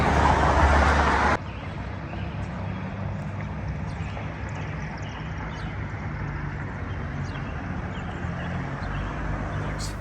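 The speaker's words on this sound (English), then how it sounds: "Sorry for the road noise." Road traffic noise inside a moving van on a town street, a steady low rumble and tire hiss that runs throughout, with a brief louder burst at the start and no talking.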